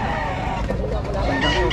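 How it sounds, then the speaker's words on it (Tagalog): Chickens cluck and a rooster crows among fowl at a gathering in San Jose, Bulacan, loud and close over a busy background murmur. "Ilang manok yan, no?"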